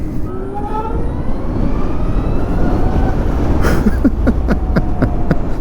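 Harley-Davidson LiveWire electric motorcycle cruising at highway speed, a steady loud rush of wind and road noise with a faint rising motor whine, then a series of short rhythmic ticks toward the end.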